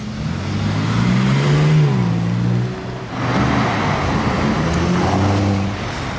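Ferrari 812 GTS V12 driving in a convoy through Monaco, a loud, close engine rumble with rising and falling revs as it accelerates and passes, no talk over it.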